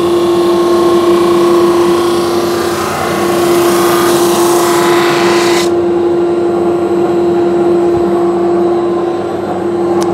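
A Holzprofi PB560 thickness planer runs loud and steady in a workshop with a strong constant hum, its broadband cutting roar as a wooden board feeds past the pressure roller cutting off abruptly partway through while the motor keeps droning.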